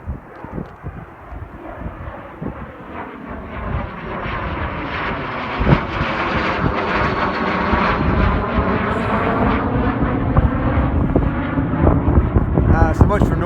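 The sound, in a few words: Citation jet taking off on runway 29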